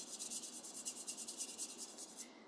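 A watercolour brush scrubbed hard back and forth against paint while mixing colours, a fast rhythmic scratchy rasping, about a dozen strokes in quick succession, faint and close.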